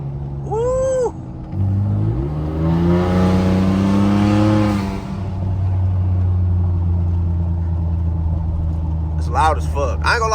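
A 2.7 EcoBoost Ford F-150 with full exhaust, downpipes, muffler and resonator delete accelerating hard from inside the cab, a loud rising engine roar that settles into a steady drone, with brief voices before and whooping after.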